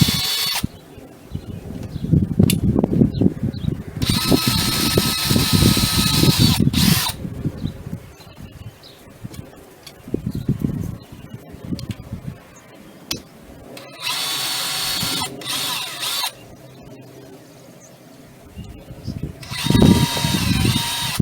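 A power drill starts a small hole in a storm door frame that may be vinyl or aluminum-coated. Several loud, close bursts of whirring and grinding are separated by brief pauses.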